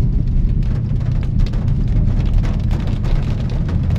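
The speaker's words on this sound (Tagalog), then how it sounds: "Ang lakas ng ulan." Heavy rain pours down steadily near a river, a dense and even hiss of falling water that holds for several seconds with no voices.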